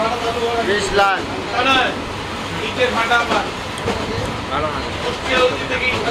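Inside a moving train: a constant rumble and rhythmic clatter of wheels, with voices talking nearby over the noise.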